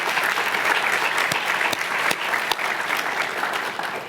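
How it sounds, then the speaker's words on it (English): A seated audience at a university speech competition night applauds steadily, with dense, sustained clapping throughout and a few sharper individual claps standing out. "A round of applause for them."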